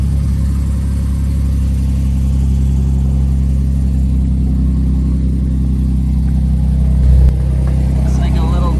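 Jeep Wrangler JK engine idling in four-wheel-drive low with a cracked muffler and an exhaust leak, a steady low rumble held close and even throughout, with a brief louder bump near the end.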